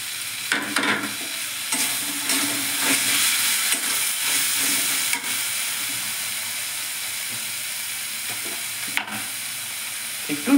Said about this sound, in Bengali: এবার আমি মশলাটা ভালো করে কষে নেব।